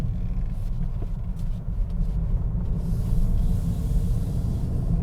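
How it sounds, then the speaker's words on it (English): A 2020 Toyota Corolla Hatchback engine drones steadily from inside the cabin while driving, a continuous low rumble with road noise and no talk. "you can just hear the buzziness of this actual engine here"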